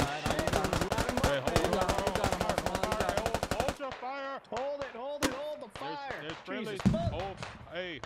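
Sustained rapid machine-gun fire in a Squad firefight, loud and close, rattling evenly for several seconds before cutting off, followed by sparse single shots under urgent shouting voices.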